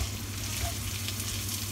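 Spring onions frying in a wok over low heat for a garlic chicken dish, giving a steady, close sizzle that holds evenly throughout with no voices.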